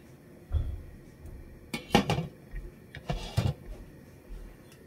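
A metal cooking pot being set up on the stove for steaming vegetarian steamed buns, with a few clanks and scrapes of the pot and lid in two brief bursts against a quiet kitchen background, close by and without talk.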